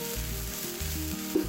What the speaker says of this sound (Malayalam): ഇത്രയും ഒഴിച്ചിട്ട് ഇത് നല്ല മൂക്കെ ഒന്ന് വറുക്കണം.